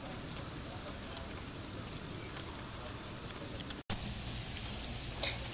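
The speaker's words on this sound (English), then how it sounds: "This snow, I believe, has some sleet in it. Yep, because I can hear the ice pellets." Sleet and ice pellets mixed with large falling snowflakes patter steadily and softly on surfaces outdoors during a southern snowstorm, a continuous close hiss of small impacts with a brief break near the end.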